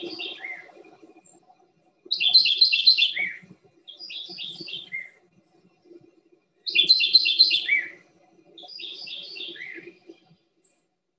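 Two vireos sing matching song phrases, a foreground bird and a background bird, and the bright clustered whistled notes repeat in clear bursts with quiet pauses between them, loud and close.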